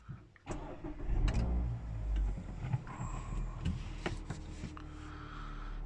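A 2.0-litre Skyactiv-G petrol engine in a Mazda CX-3 cranks and fires at the push of its stop-start button, surging briefly before settling into a steady nearby idle.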